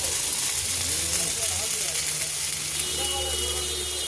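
Ginger and cumin paste fries in hot oil with a soft, steady sizzle and hiss, fairly close but low in level, with a faint tonal hum beneath and no clear voices.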